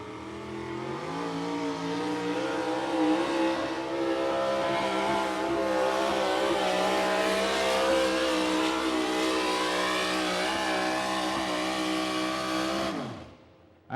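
Modified 4x4 pulling truck at an outlaw truck pull in Wisner, Nebraska, engine roaring loud and sustained at high revs for the whole pass, pitch wavering slightly, then cutting off abruptly near the end.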